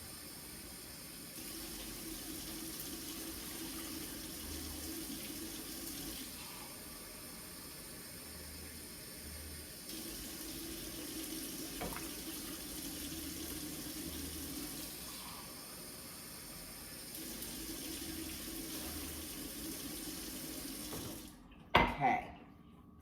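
Water runs steadily from a kitchen tap into a measuring cup for lentil curry, a soft, continuous hiss with slight shifts in tone as the level rises, ending with a brief clatter.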